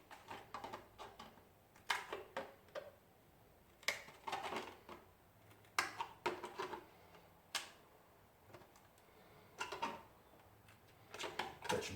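A sharp kitchen knife cuts notches into a plastic milk bottle lid, producing a series of short, crisp, irregular snips and crunches, close and fairly quiet, separated by brief pauses.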